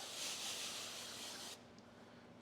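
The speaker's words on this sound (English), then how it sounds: "I'm going to spray the top of the film down in the area that I'm going to be working." A spray bottle mists slip solution onto paint protection film on a Tesla rear bumper, one sustained close hiss that cuts off, leaving faint room noise and a small tap.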